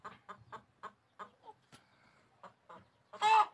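Jersey Giant and Shamo chickens cluck in short, quiet bursts nearby on a farm, ending in a louder squawk, with no one talking.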